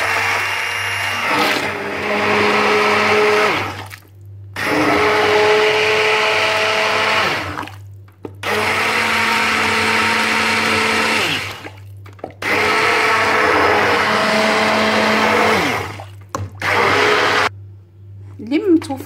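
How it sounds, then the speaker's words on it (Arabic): An electric blender grinds vegetable soup in four loud, steady bursts separated by short silent pauses, with a faint voice between runs. "ودابا انا غادي نطحنها بالطحان"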